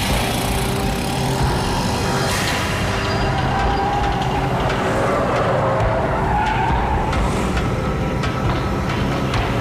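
Car arriving with skidding tires in an action movie scene, a loud continuous engine roar with screeching tire noise sweeping up and down, close and steady throughout.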